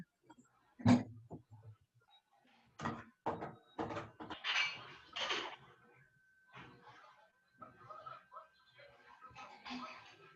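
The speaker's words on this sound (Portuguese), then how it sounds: "Só um minutinho que eu vou fechar a porta aqui." A door shutting indoors in a classroom or lecture room, a few sharp thuds and bumps with creaks, spread across the stretch between murmured voices and background speech.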